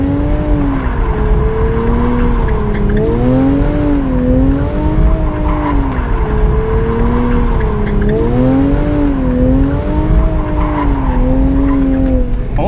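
A Porsche engine roars steadily while tires squeal in long wavering tones, rising and falling in repeated cycles as the car spins donuts on the street.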